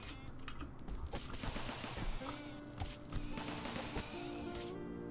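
Rapid bursts of colonist gunfire in the colony-building game RimWorld, dense overlapping shots crackling close and loud, steady throughout.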